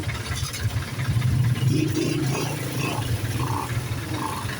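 Idling car engines in a long, slow traffic jam form a low, continuous rumble with faint clatter and swelling engine noise nearby, with no talk.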